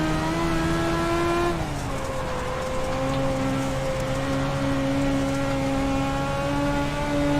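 A dirt-track race car engine in the iRacing simulator drones at high revs, its pitch dropping as it eases off and then holding steady through a corner, loud and continuous with no talk.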